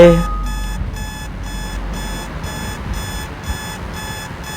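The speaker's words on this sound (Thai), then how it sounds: "อะไรอะนาฬิกาแจ้งเตือนตกใจเสมอ" An alarm clock rings steadily in the Roblox game Radiant Residents, a loud, repeating electronic beeping pattern that keeps going the whole time with no talking over it.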